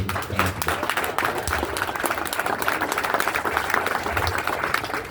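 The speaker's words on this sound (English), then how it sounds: "Y'all need to quit clapping." A crowd claps steadily and densely throughout at a Tim Burchett event in Knoxville, Tennessee, a continuous wash of applause with a faint voice or two underneath.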